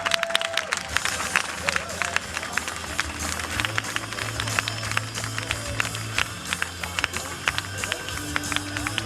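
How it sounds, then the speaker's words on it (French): A comedy festival audience applauds and claps steadily in a theatre, with crowd murmur and a voice speaking over the clapping. "tout le monde, belle main d'applaudissement pour"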